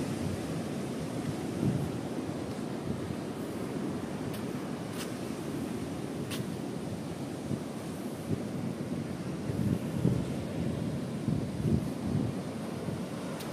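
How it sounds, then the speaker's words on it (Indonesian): Ocean waves rolling onto a beach at Ungapan in South Malang, a continuous roar of surf mixed with gusting wind noise, with no voices. "Karakteristik ombaknya beda."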